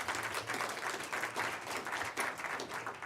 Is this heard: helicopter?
no